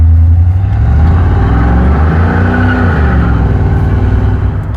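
A worn-out beater car, built as a burnout machine, accelerates hard onto a highway. The engine drones loudly and continuously from close by, and its pitch climbs and shifts as the revs rise through the pull.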